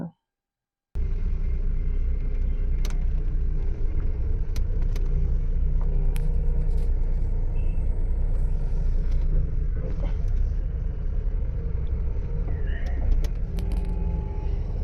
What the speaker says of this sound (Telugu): బస్సు ఇప్పుడు యూటర్న్ తీసుకుంటుంది అనుకుంటా.